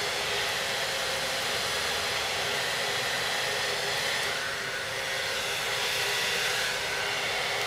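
Hair dryer blowing straight hair styled over a large round brush in a salon, a constant loud airy roar with slight swells as the dryer moves, with no voices.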